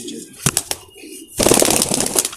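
Close pigeon coos, a few soft throaty calls followed by a busier burst of cooing and rustling in a pigeon-keeping setting, with faint background murmur.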